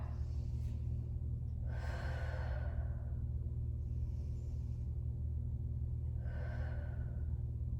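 Audible breathing during a flowing floor workout of elbow-to-knee moves: two strong exhales and a softer breath in between, close to the microphone over a steady low hum.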